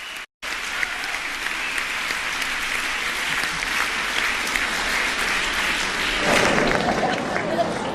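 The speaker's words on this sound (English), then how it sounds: "Let's give a round of applause." Applause from a book event audience after an author's talk in Florida, dense continuous clapping that fills the room for the full stretch and grows a little louder toward the end. A voice speaks briefly over it.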